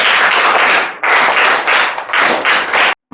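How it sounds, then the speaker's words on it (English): An audience claps loudly and densely at a school Teachers' Day event, a close, continuous burst of applause broken by brief gaps and ending abruptly. "So guys, clap."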